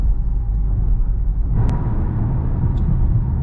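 Steady low engine drone and road rumble inside a moving Dodge Charger RT, continuous and even throughout, with a slight rise in road noise midway and no talking.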